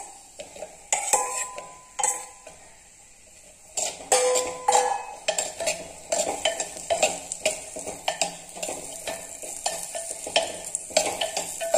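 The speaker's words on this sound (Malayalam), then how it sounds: "ഇതിലേക്ക് കായ ചേർത്തിട്ട് കൊടുക്കും ഒന്ന് വഴറ്റിയെടുക്കാൻ" Raw banana is stirred in hot ghee in a clay pot, a spoon scraping and clinking against the pot in quick irregular strokes over a soft sizzle, close up with no voices.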